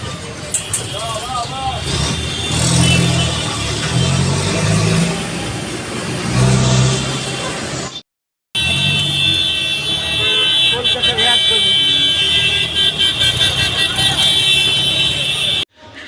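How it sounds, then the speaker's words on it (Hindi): Busy Kolkata road traffic during the puja festival: loud, dense engine noise and repeated horn toots, with people talking nearby. After a brief dropout, the din picks up again with a sustained high-pitched alarm-like tone. "तो देख ही लीजिए, ये है हमारी कोलकाता की ट्रैफिक।"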